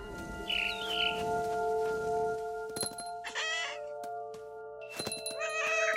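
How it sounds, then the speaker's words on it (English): A cat in the video game What Remains of Edith Finch gives several short, close meows, separated by quiet gaps, over a faint steady tonal background. "I was a cat"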